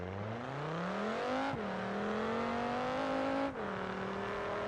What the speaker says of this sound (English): I think it's going to have a lot of wheel spin